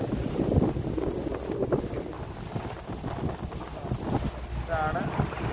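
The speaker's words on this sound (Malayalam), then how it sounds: "നല്ല കാറ്റുണ്ട്. കാരണം ഞാനിപ്പോൾ കടലിലോട്ട് പോയിക്കൊണ്ടിരിക്കുകയാണ്." Strong sea wind rushes past a boat heading out from Marine Drive. Wind noise buffets the microphone steadily over the low rumble of the water.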